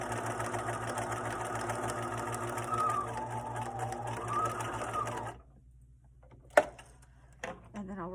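A sewing machine stitches fabric for a zip wallet's outside pocket, running steadily for about five seconds, then stopping, followed by a couple of sharp clicks and handling noises.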